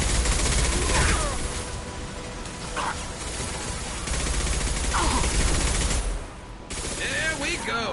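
Several gunshots ring out in a loud video game firefight, a dense fusillade of bursts over steady battle noise, with brief spoken voices near the end.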